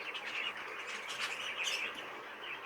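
Fife canaries, young birds bred in 2024, chirp and tweet in a show cage, a busy run of close, bright calls that continues throughout with no voices.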